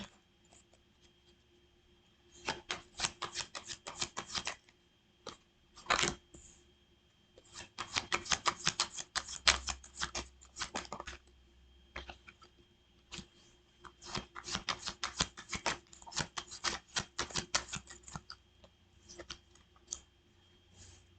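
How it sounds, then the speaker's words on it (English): Tarot cards shuffled by hand in several quick bursts of dense riffling and flicking, each lasting a few seconds with short pauses between, fairly close and alone without talk. "One more shuffle."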